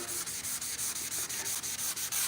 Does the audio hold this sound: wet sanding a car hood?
yes